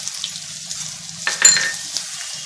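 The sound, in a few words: tomato sizzling in hot tempering oil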